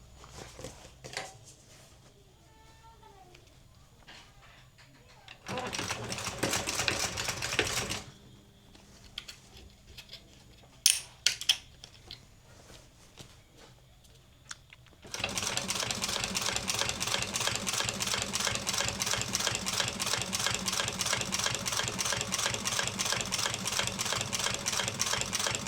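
An industrial sewing machine stitches a French seam on a vinyl door panel for a 1974 Chevy Caprice, starting with short, stop-start bursts and then running in a loud, steady, fast rhythmic whir for the second half.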